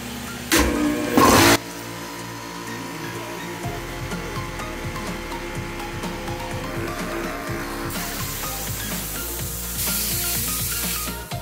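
A 4500 psi air compressor runs steadily while filling an oxygen cylinder, a loud continuous mechanical drone with a rhythmic pulsing chug, preceded by a couple of short loud bursts at the start.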